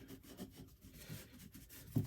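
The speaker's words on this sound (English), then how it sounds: "Just using the handle of the hammer to try to kind of get that pulled all the way" Leather rubbed with the wooden handle of a hammer to press and set stitching while making a weight bag: soft, close, continuous scraping strokes with a slightly louder rub near the end.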